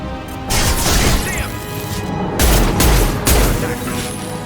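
Heavy gunfire in Mass Effect 2 comes in loud, close bursts with booming impacts, separated by short lulls.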